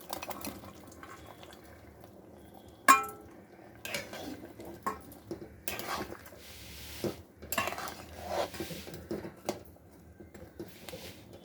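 Lentil fritters (bora) being dropped into a pot of boiling curry for an elephant-foot yam dish, giving a sharp clatter of a metal pot followed by scattered utensil clinks, splashes and bubbling bursts at moderate loudness.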